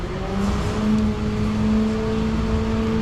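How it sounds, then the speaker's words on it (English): A truck idling and rolling on a city street in Chisinau close behind, a steady engine drone with a sustained low hum and rising whine. "probably can't hear much because of the truck behind me"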